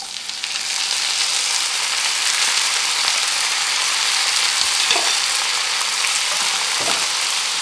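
Five red tomatoes tipped into a hot pan of caramelised, sautéed aromatics for butter chicken, setting off a loud, continuous sizzle that holds steady throughout, with a couple of soft stirring knocks and no talk.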